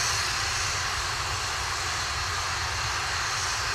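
Atlas V rocket engines roaring during launch ascent, a loud, steady, broadband rumble that holds unbroken throughout with no voices.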